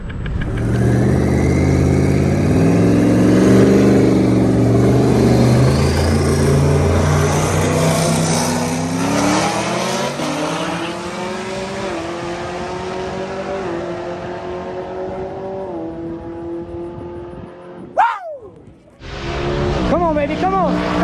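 Twin turbo Coyote race cars accelerating hard in a 150 mph roll race at a Street Car Takeover drag event, a loud sustained engine roar with rising harmonics that fades over about seventeen seconds before a brief sharp burst and renewed noise.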